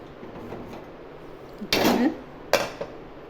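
A pressure cooker lid being opened after cooking cluster beans in a home kitchen, heard as a loud metallic clank and release burst, followed by a second sharp knock, close by over quiet room tone.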